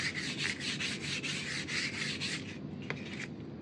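Clean sandpaper rubbed back and forth over edges in a steady rhythmic scratching, close and clear, slowing and stopping near the end with a few light taps.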